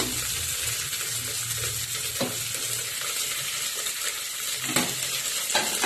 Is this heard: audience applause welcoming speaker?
no